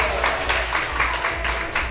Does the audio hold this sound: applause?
yes